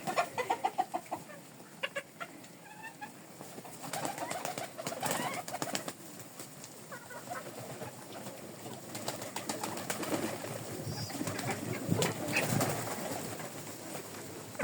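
Backyard chickens cluck and murmur close by in winter, with pigeons mixed in and occasional wing flutters and scratching, the soft calls irregular and fairly quiet with no talk.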